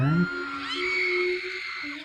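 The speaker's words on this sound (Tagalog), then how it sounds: "grabe naman yung sigaw" A loud, excited scream rings out at the start, then a sustained high shout carries on over lively background commotion.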